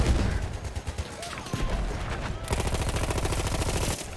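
Heavy gunfire from a Burton rifle in the World War I shooter Battlefield 1, with sporadic shots early on giving way to a fast, steady stream of repeated rounds amid a busy battlefield din.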